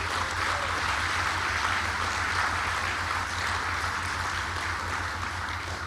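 An audience at a hospital specialty care building ribbon cutting breaks into sustained, dense applause, with many hands clapping steadily over a low hum.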